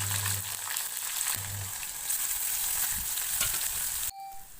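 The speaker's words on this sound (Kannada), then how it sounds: "ಎಣ್ಣೆ ಸ್ವಲ್ಪ ಫ್ರೈ ಮಾಡ್ತೀನಿ" Oil sizzles and crackles loudly and continuously in a pan as curry leaves and chillies are tempered, then stops abruptly near the end.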